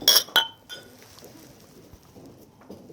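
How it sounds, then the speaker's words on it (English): Glasses clinking at a Scottish wedding toast: a few sharp, bright clinks sound close in the first half second, then fade into a soft murmur of the room. "I would just like to ask everyone to raise a glass to the new Mr. and Mrs. Mundell."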